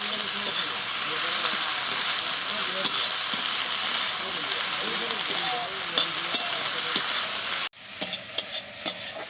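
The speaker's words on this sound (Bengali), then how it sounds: "তারপরে সব কিছুকে খুব ভালো করে এবার ভেজে নেব।" Pumpkin flowers with a pinch of salt sizzle and crackle steadily in a hot pan while being stirred. The frying hiss stays close and continuous, with soft scraping of the spatula throughout.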